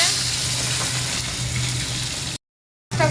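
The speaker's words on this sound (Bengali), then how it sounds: "ভাজা হচ্ছে, এই মাছটা দিয়ে ঝাল হবে," Tangra fish fry in hot oil in a pan, a steady close sizzle with a low hum underneath, broken by a short gap of silence near the end.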